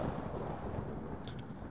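Thunder rolls during a storm in the video game Cooking Companions, a continuous low, heavy rumble that fills the short moment, with no talk.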